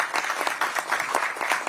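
A political campaign committee audience gives a big round of applause for lawmaker Park Joo-min, a dense, steady wash of many hands clapping at close range that fills the whole stretch without letting up.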